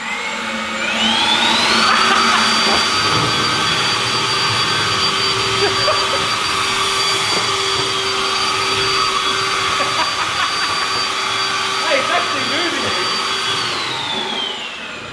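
A cordless dual-battery brushless power tool runs continuously on turbo for about fifteen seconds, a loud, steady high-pitched whine and rushing roar like a blower, ramping up at the start and easing off near the end.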